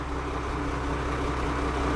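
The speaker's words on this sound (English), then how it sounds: "Put it in drive. Let it tug against the engine." A truck engine in drive strains against the applied parking brake, a constant low, heavy rumble heard up close with no change in pitch or loudness across the moment.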